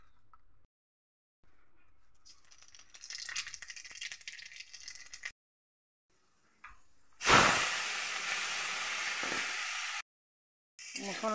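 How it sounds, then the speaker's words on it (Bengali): A spice mix of turmeric, salt, chili, onion, garlic, tomato, cumin and coriander powder hits hot oil with a sudden loud hiss. Quieter rattling and a break come before it, and the sizzle then holds steady. "এগুলো তেলে দিয়ে দেব।"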